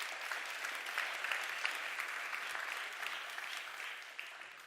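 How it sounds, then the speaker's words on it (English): A conference audience gives a brief round of applause for two mayors, a soft, dense patter of many hands heard from a distance that slowly fades. "So a quick round of applause for them."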